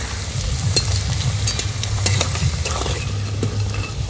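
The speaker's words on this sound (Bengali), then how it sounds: "এইভাবে লাল লাল করে ভেজে নিয়েছি, আর আওয়াজটা শুনেই বোঝা যাচ্ছে এটা কতখানি ক্রিস্পি" Food frying until red and crispy in a pan, a steady close sizzle with sharp crackles and occasional stirring scrapes, no voices.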